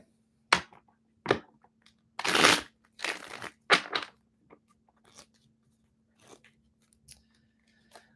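Tarot cards handled close up for ASMR, with a series of sharp crisp shuffling and flicking bursts, several louder rustling snaps followed by fainter taps, over a low steady hum.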